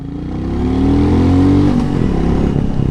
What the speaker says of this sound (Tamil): எக்ஸாஸ்ட் நல்லா லவுடாக இருக்குது இது ஸ்டாக் எக்ஸாஸ்ட்டுங்க